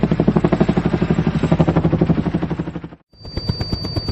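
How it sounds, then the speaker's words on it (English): A commando helicopter's rotor beats in a fast, steady chop, loud and close, then cuts off briefly before another rotor throb resumes. "Commando helicopter."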